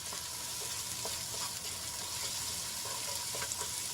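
Onions sautéing in a covered pan, a constant dense hiss of frying with faint occasional ticks, heard close and steady with no speech.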